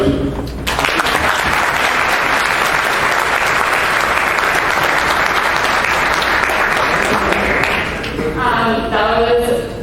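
Conference audience applauds after a speech, a loud, dense burst of clapping that starts abruptly, holds steady for about eight seconds, then gives way to a voice speaking.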